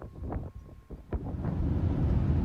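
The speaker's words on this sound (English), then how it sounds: "It's really windy." Strong gusty wind at Cape Blanco on the Oregon coast, rumbling against the microphone and building into a steady low roar, with brief voices early on.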